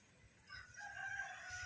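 A rooster crows once on a farm, a drawn-out call rising and holding, heard from a moderate distance and fairly faint.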